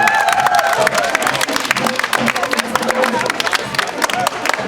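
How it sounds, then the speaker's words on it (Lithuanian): Crowd at an outdoor border festival applauds and cheers for a visiting school group, a dense steady wash of clapping with scattered whoops and voices mixed in throughout. "Paplojam."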